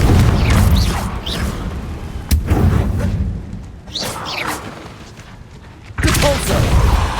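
Confringo spell blasts in the Hogwarts Legacy video game: several booming, whooshing fire bursts with crackling debris, loud and close, with sharp hits around the middle and a fresh blast near the end.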